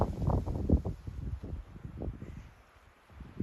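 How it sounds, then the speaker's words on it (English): Gusty wind buffets the microphone on a mountain summit near Avery Peak on a Bigelow hike, a low rumbling roar that surges and eases in uneven bursts for a few seconds, with no voices. "The wind's blowing."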